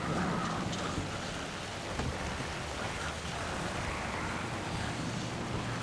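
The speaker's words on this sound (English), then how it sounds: "It's also like raining out. Basically the weather outside's like this." Heavy rain and gusting wind roar in a dense, continuous wash in Alan Wake 2, loud and unbroken, with a faint low rumble beneath.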